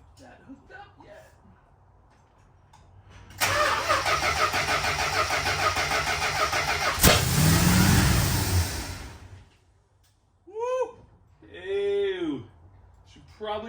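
An old car engine cranks and catches, running roughly for several seconds at a steady loud roar before cutting off. Voices talk afterward in an open garage-like space.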